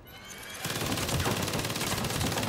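Sustained automatic gunfire from the 2022 Saints Row video game, a dense, loud, continuous rattle of shots that starts abruptly after a quiet half second and keeps going.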